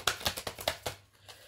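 A deck of tarot cards being shuffled by hand, a quick run of about six crisp riffling bursts in close succession, then trailing off into near quiet with one faint final shuffle.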